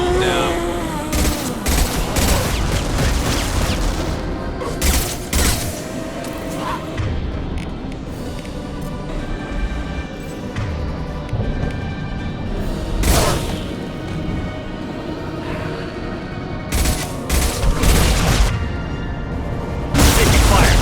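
Mass Effect 2 combat gunfire: repeated loud weapon bursts and booming impacts crackle across the fight, with rapid automatic fire and heavy thuds at intervals.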